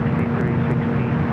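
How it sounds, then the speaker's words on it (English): A Delta 767 rolling down runway 7 left at LAX for takeoff, a brief, loud, steady engine drone with a low hum and nobody talking. "Another Delta 767 rolling down, 7 left."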